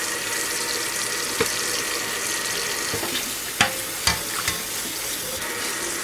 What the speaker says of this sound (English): add those blueberries in the strainer. And we're just going to rinse them now.